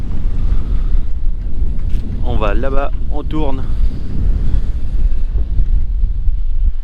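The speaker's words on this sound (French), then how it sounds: "Là, il y a encore bien 20 nœuds de vent" Strong wind of about 20 knots buffets a sailboat at sea near the end of a transatlantic crossing, a steady loud roar with water wash throughout, while someone talks briefly in the middle.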